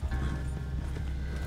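Horse hooves clip-clopping at a steady gallop in the Western game Red Dead Online, a continuous rhythmic beat with a faint mechanical rattle, no talking.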